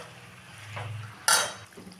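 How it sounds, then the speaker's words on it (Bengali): Turmeric, cumin and green chillies stirred in a pot for Peshawari chicken: a soft frying sizzle with a spoon scraping and a single sharp clank of metal against the pot near the middle, close and alone. "এখন মশলাটাকে ভালো করে মিশিয়ে নেব। ভালো করে কষিয়ে নেব।"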